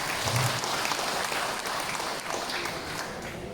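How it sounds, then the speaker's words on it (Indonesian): A hall audience at a youth movement assembly in Dewan Gawir, Penampang, applauds the youth leader; moderately faint, continuous crowd clapping heard from a distance, running throughout with no voices over it. "Kita berikan tepukan."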